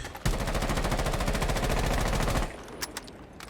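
Rapid automatic gunfire in Rainbow Six Siege, one sustained burst of evenly spaced shots lasting about two seconds, loud and close, then stopping abruptly.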